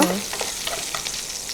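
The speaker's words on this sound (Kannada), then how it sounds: "ಫಸ್ಟಿಗೆ ಒಗ್ಗರಣೆ ಹಾಕಬೇಕು" Curry leaves and garlic tempering in hot oil for banana stem sukka give a brief, loud burst of close sizzling crackle that fades slightly but keeps hissing for its short length.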